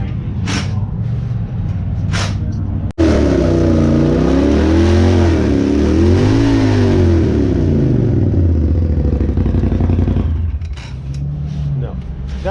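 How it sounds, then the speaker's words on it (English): An off-road dune vehicle with a broken clutch belt has its engine revved hard, the pitch climbing, sagging and surging again in long loud swells for about eight seconds before settling back to a rough idle. "we're gonna start it up and rev the motor, and hopefully this thing opens up enough we can get the rest of this belt material out"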